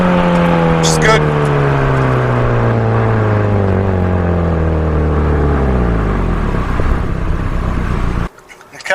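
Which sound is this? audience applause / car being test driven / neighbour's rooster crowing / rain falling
car being test driven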